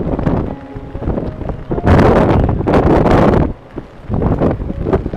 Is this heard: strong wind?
yes